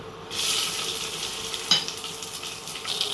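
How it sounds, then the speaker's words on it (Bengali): Five-spice, two dried chillies and three green chillies drop into hot mustard oil left from frying fish, bursting into a sudden loud sizzle that settles into steady crackling, with one sharp utensil knock midway. "এর মধ্যেই আমি 5 ফোড়ন, 2টো শুকনো লঙ্কা, 3টে কাঁচা লঙ্কা ফোড়ন দেব"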